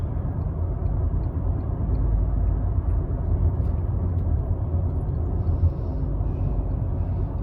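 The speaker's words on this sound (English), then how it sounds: "Now we're going through a second tunnel." A car drives through a road tunnel on a mountain highway with many trucks about, giving a continuous enclosed low rumble of engine and tyre noise that stays steady and fairly loud throughout, without talking.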